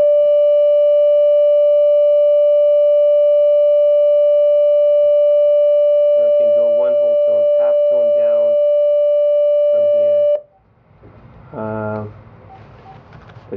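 Pure reference tone, the D octave at 587.33 Hz used for tuning Persian tar and setar, held steady and loud for about ten seconds before cutting off, with a voice and other sounds over its second half.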